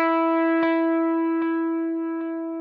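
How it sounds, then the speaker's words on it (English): An electric guitar with overdrive sustains one bright, harmonically rich held note, with dotted eighth delay repeats ticking back three times at even intervals, each fainter, playing alone and up close. "This is a dotted eighth delay."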